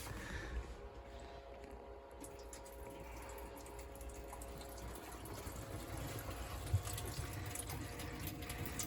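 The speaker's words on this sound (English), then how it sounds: "So pour some water in it, Fran, and we'll see if anything." Water poured into the drain trap of a narrowboat under construction gives a steady, soft trickling and filling sound that runs throughout at low level, with no voices.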